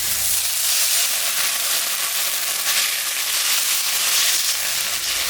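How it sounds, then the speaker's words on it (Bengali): Masoor lentils frying in a hot pan erupt into a loud, continuous hiss and sizzle as water is added, with the steamy roar staying close and steady throughout. "মুসুরের ডালটা একটু ভাজা ভাজা করে নিলাম। এখন আমি সামান্য জল দিয়ে দেবো।"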